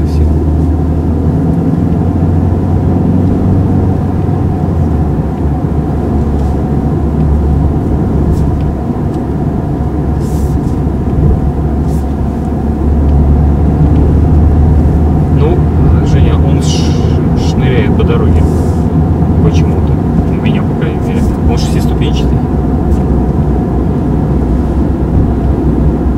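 A Volkswagen Golf Sportsvan with a 125-horsepower engine drives on a test drive, giving a steady, loud engine and road drone throughout with a few brief ticks and knocks near the end.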